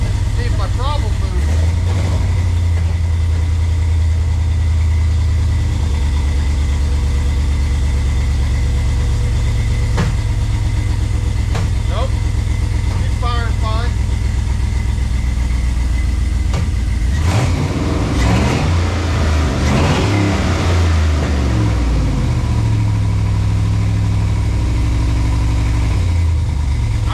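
A yellow Jeep TJ engine starts and runs at a low, steady idle for a long stretch, briefly revving louder partway through, while a person talks and moves around near the vehicle.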